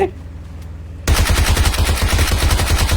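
Loud, rapid automatic gunfire bursts in at once after a second of quiet, then runs as a steady rattling stream of shots to the end.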